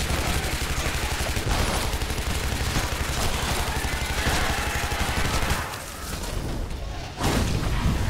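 Rapid gunfire from a gun in the video game Shadow Warrior (2013) hammers continuously in dense, loud bursts with booming impacts, pausing briefly near the end before resuming.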